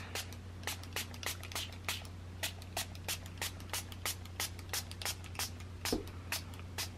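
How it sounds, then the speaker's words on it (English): Homemade distress ink sprayed from a spray bottle onto a paper tag and doilies, a rapid series of short crisp spritzes in steady rhythm, close and fairly quiet over a low constant hum. "So let's spray the tag of the doilies."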